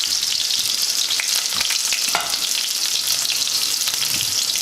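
Chopped onion frying in oil in a pan for Jamaican ackee and saltfish, giving a steady close hissing sizzle with faint stirring clicks throughout and no talking.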